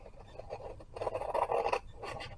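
Scissors snip through paper during crafting, a few soft rasping cuts in close succession with brief pauses between them, quiet and close-up.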